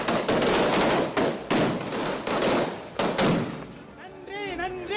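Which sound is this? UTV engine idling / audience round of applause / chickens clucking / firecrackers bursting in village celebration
firecrackers bursting in village celebration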